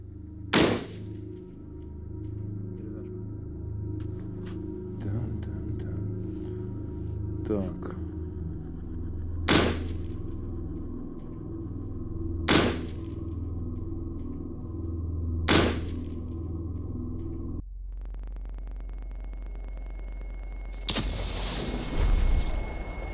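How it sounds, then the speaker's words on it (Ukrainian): Several sharp, loud rifle gunshot cracks spaced a few seconds apart, each followed by a brief echo, over a low steady rumble. "Постріл."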